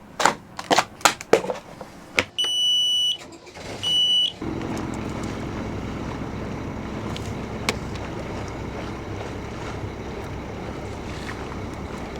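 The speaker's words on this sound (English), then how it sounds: "let's get the engine started and start making our way south." A few clicks and two warning beeps are followed by a boat engine starting up, then a steady low rumble running on.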